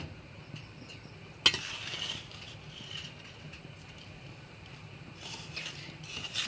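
Pitha frying in a pan, a soft continuous sizzle with faint scraping and stirring clinks, one sharp utensil knock near the start, quiet and close.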